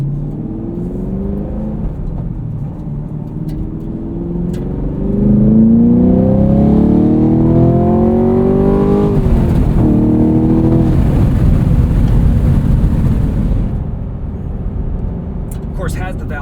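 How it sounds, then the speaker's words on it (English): A 2023 Chevrolet Camaro SS 1LE with a manual gearbox and V8 pulls hard from inside the cabin, its valved exhaust rising in pitch through the gears, loud and steady, with voices talking over it. "Of course, has the valve exhaust."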